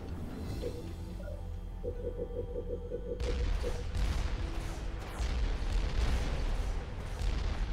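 Artillery barrage in Halo Wars hits after a rapid series of beeping tones: a cluster of heavy booms and crackling impacts rolls on for several seconds, loud and close.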